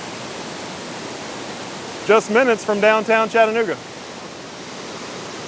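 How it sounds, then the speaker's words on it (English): Middle Creek Falls near Chattanooga pours as a steady broadband roar that fills the whole clip, loud and continuous, with someone talking briefly over it midway. "directly behind me, Middle Creek Falls"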